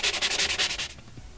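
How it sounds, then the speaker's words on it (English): Rhythmic back-and-forth sanding strokes on set plaster of a model gravel road, close and steady, about eight passes that fade out near the end. "it's time to do some sanding again"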